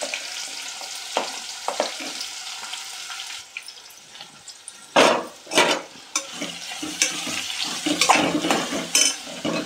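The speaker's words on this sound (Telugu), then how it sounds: "తర్వాత అవి వేగిన తర్వాత ఉల్లిపాయలు వేస్తున్నానండి" Onions frying in plenty of oil for a chicken curry, a crackling sizzle broken by loud stirring scrapes and splashy bursts midway, close and without voices.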